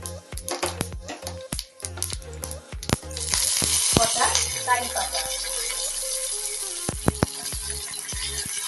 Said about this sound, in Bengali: দিয়ে দিলাম এক চামচ তেল দিয়ে দিচ্ছি দুটো শুকনো লঙ্কা এক চামচ সর্ষে